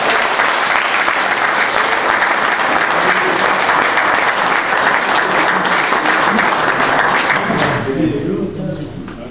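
Loud, dense applause from an audience at a hunting dog competition honouring a pack of hare-coursing hounds, sustained steady clapping for several seconds before tapering off near the end.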